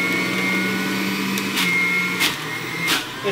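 Breville juicer juicing parsley, a close, steady motor whirr with a few short surges of grinding as the leaves feed through.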